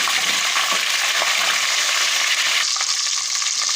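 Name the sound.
garlic ginger paste frying until light golden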